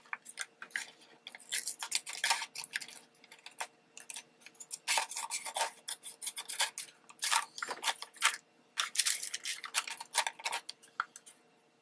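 Trimming a handmade wax paper bag with scissors, a close series of crisp snipping and crinkling bursts coming in irregular clusters, no voices.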